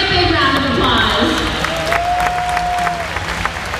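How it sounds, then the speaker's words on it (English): Audience applause at a killer whale show, a steady crowd of clapping with some cheering, heard alongside a brief whistle-like tone and background voices. "Let's give them a great big round of applause"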